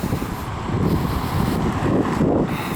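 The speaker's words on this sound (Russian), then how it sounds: "ветер такой силы, что невозможно мячиком играть просто" Strong, gusty wind roars continuously against the microphone on an evening street in Alanya, Turkey, loud and buffeting with surging swells and no voices.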